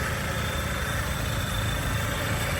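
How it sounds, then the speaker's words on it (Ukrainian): A 2007 Chevrolet Lacetti with a 1.6 petrol engine idles evenly, a steady unbroken drone heard up close with no speech over it. "Двигун робить рівно."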